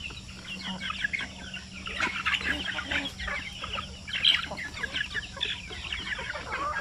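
Chickens clucking in a poultry range area, a dense flock chorus of overlapping clucks and squawks that goes on steadily throughout, with a faint voice in the background.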